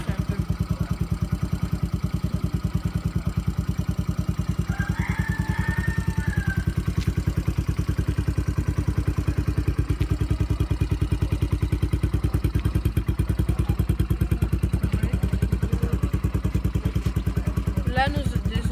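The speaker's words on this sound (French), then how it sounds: "il faut attendre que le moteur chauffe un peu" A Yamaha Raptor 90 quad idles steadily while its engine warms up, a close, even, rapid putter that holds constant throughout, with faint brief sounds over it.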